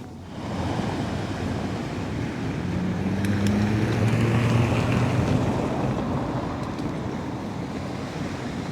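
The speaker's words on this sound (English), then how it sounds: "that's a ferry coming back from across the river" A ferry returns across the Tagus river in Lisbon at night, its low engine drone steady beneath a broad wash of water, wind and surf-like noise close to the microphone.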